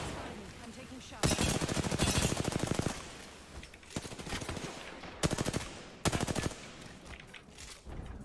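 Video game gunfire in a ranked match, loud close bursts of rapid automatic fire in several separate volleys with gaps between, over a low background of game sound.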